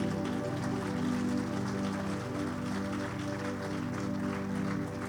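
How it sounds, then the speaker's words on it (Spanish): A church congregation applauding at length during a service, a dense steady wash of many hands clapping together, loud and continuous with no pauses. "Denle un aplauso a Jesús fuerte"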